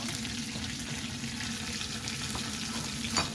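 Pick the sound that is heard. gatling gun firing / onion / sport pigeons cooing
onion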